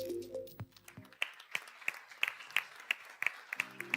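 A panel-discussion audience gives a short burst of scattered, fairly light clapping to welcome a panelist, with speech just before and after the claps.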